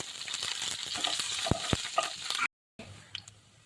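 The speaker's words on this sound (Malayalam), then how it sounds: "കുറച്ച് ഇഞ്ചിയും വെളുത്തുള്ളിയും പച്ചമുളക് ഇടാം." Ginger, garlic and green chilli frying in coconut oil for a sardine curry, a close, crackling sizzle with a few sharp pops and stirring clicks, cut by a brief moment of silence.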